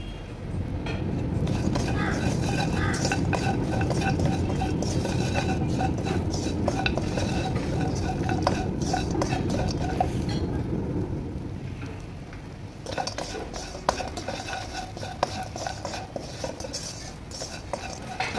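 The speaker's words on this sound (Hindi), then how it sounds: "थोड़ा सा मैं बादामों को ड्राई रोस्ट करूँगी।" Almonds dry roasting in a pan while being stirred give a dense, continuous rattling and scraping for about ten seconds, then the sound drops to quieter, sparser clinks of utensil on metal.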